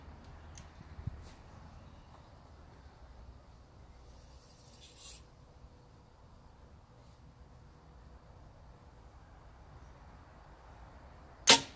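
A single arrow shot during archery practice: a faint hiss and soft thuds under a quiet outdoor background, then a sharp, loud crack right at the end.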